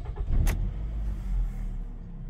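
A Nissan Rogue engine cranks and catches with a short burst, then settles into a low, steady idle, heard close up inside a repair shop.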